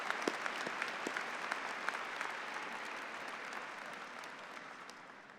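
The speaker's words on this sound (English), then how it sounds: "Let's give them a round of applause." Steady applause from a large audience fills the clip, dense clapping that slowly fades toward the end, with no voices over it.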